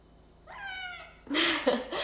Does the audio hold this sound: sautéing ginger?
no